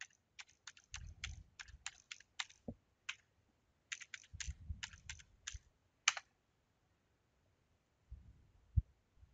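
Bursts of rapid, crisp keystrokes on a computer keyboard entering a user ID and password at a login screen, close and clear, with short pauses and a few low thumps between runs.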